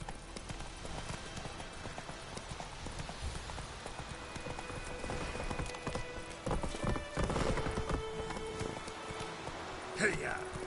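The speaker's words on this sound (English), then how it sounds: "Come on, Roach" Horse galloping in The Witcher video game, with a steady drumming of hooves on ground, clear and fairly close, continuing throughout while a voice speaks over it and another short call rises near the end.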